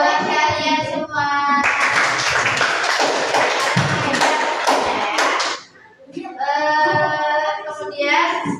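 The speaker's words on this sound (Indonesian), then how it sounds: "Ya, tepuk tangan buat kalian semua." A ninth-grade class breaks into a burst of hand clapping lasting about four seconds, lively and close, with someone talking before and after.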